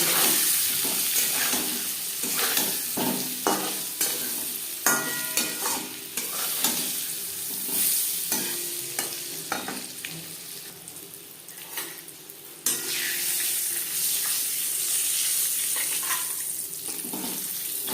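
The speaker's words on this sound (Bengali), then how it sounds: "তিন চার মিনিট আলু ভেজে নেওয়ার পর একটা পাত্রে উঠিয়ে নিন" Boiled potatoes frying in mustard oil give a steady, loud sizzle with watery crackling, stirred now and then with scraping and clattering against the pan, with no talking.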